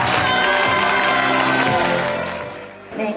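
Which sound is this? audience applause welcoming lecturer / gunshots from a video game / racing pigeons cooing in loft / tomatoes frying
audience applause welcoming lecturer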